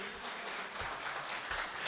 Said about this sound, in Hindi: एक बार जोरदार तालियां बजा दीजिए तो सबके लिए